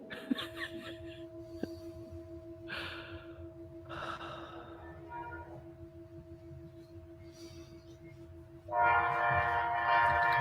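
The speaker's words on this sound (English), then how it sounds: "That was the train." A train rumbles past at a distance with a low steady drone and a sustained horn tone, then a sudden loud hissing burst near the end.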